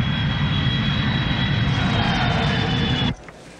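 Airplane cabin before landing in Adelaide, South Australia: a loud, steady engine roar with a thin whine that cuts off sharply near the end, leaving quieter cabin hush.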